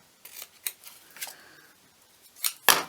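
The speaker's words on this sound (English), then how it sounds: "I'm just going to snip that off and that off." Small scissors snip stitching thread off a crafted tag in a few crisp, close cuts, short dry clicks spaced apart with a louder final snip, no talking.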